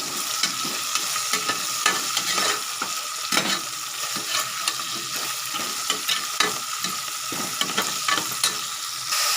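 Tomatoes fry with onion, green chilli and potato in a pan while being cooked for tomato rice, producing a steady close sizzle and repeated rhythmic scrapes and taps of a spatula as the mixture is stirred.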